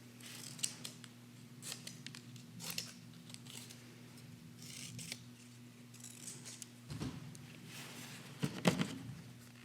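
Scissors snip paper collage pieces from a Hollywould Studios collage kit, with repeated crisp cuts at an uneven rhythm over a steady low hum, close and fairly quiet, with no talking.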